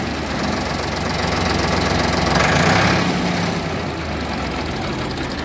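A heavily modified 1995 Ford 3600 tractor engine idles nearby in a loud, steady low chugging knock that swells slightly midway before settling back, with no voices.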